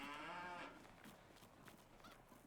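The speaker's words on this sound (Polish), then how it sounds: "Słychać krowy." A drawn-out cow moo with rich harmonics opens in Farming Simulator 19, followed by quieter farmyard murmurs and faint lowing in the background.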